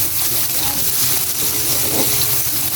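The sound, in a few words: garlic and onions sizzling in a pan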